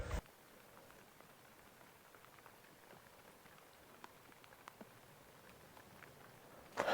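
Soft, steady morning rain patters in the background, with scattered sharper drips landing nearby and no voices.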